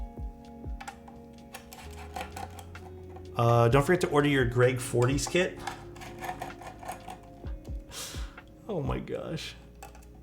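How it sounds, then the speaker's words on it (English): A mechanical keyboard being built and tested clicks in rapid irregular bursts of keystrokes, close and crisp, while a voice talks over part of the typing. "Sounds like a keyboard."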